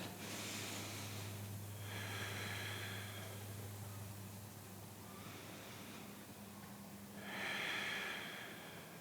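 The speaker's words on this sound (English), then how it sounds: "Really tune in to your Ujjayi breath" Slow Ujjayi yoga breaths in a calm flow class, three long ocean-like hissing inhales and exhales spaced a few seconds apart, soft and close over a low steady hum.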